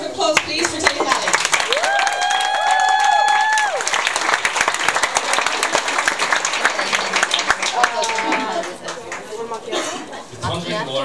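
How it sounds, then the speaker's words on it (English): An audience breaks into sustained applause at a public speaking entertainment event, dense clapping throughout with a voice speaking over it and a sung or called tone rising above the crowd. "So can we have a big round of applause, please, for Tilly Kelly?"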